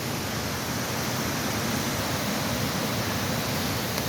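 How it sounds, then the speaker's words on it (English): A waterfall in Chester, Connecticut rushes over rocks as a loud, dense, constant roar that fills the scene without letting up, and nobody speaks. "We just want to see the waterfall."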